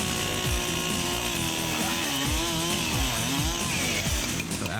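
Chainsaw cutting through a blood-loaded dummy for a film effect, a loud close engine snarl with rhythmic bogging dips as the chain bites, running continuously.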